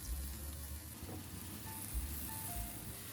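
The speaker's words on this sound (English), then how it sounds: "Add the sliced onions, stir on lower heat." Sliced onions sizzling on lower heat in olive oil and butter in a large pot, a soft, steady hissing crackle, faint and continuous throughout.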